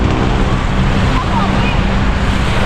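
Sea waves at Dolomite Beach, a shoreline covered with dolomite sand, give a constant broadband wash mixed with wind rumbling against the microphone, with no clear separate breakers.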